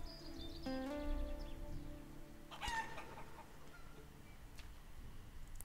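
A chicken in the video game Life is Feudal: Forest Village clucks in a few short, bright calls, followed by quieter scattered clucks over a low background hum.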